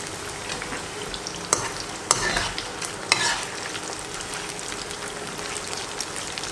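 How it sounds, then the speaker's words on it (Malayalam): Chicken 65 pieces deep-fry in hot oil with a steady, close sizzle, while a stirring utensil scrapes through them and makes three or four sharp clinks against the pan. "എല്ലായിടവും ഈവണായി ഫ്രൈ ചെയ്യാൻ വേണ്ടി ഇതൊന്ന് ഇടയ്ക്ക് ഇതുപോലെ സ്റ്റിർ ചെയ്ത് കൊടുക്കണം."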